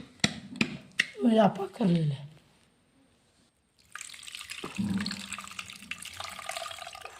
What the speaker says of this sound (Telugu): ఇలా చింతపండు పులుసు పోసేసుకోవాలండి